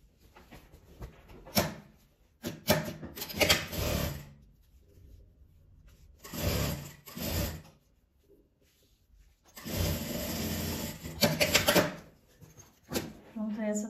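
A sewing machine topstitches a seam on a fabric school pencil case in short, close whirring runs separated by pauses, with a voice talking in between.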